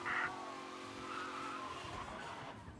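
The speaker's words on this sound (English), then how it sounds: "Race car breaking the limit through the city." Race car tires skid and squeal through city streets in the video game Mafia Definitive Edition, a steady tonal screech over engine drone lasting the whole moment, moderately loud with no talking.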